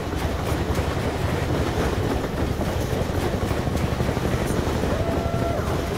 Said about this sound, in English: And there's trains coming constantly.